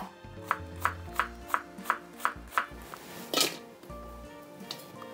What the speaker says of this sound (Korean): 양파 반개 사용합니다. 잘잘하게 채 썰면 됩니다.